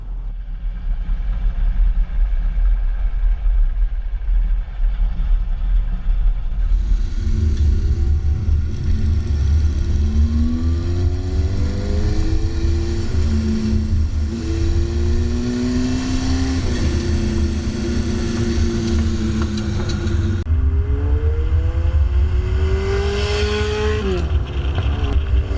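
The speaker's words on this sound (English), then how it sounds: "This is my 1977 Honda CB750." A 1977 Honda CB750 cafe racer resto-mod motorcycle engine while riding, loud and close throughout, with pitch rising and falling through repeated revs and gear changes over steady wind rush.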